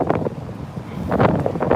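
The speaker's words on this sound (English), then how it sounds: "Holy crap, it's windy." Strong gusty wind buffets the microphone in loud, uneven rushes on a street in downtown Oakland, with no voices.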